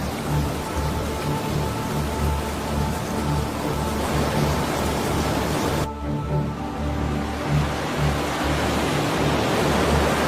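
A downburst of heavy rain pours down in a dense, continuous roar, steady and loud throughout, with a brief shift in tone partway through.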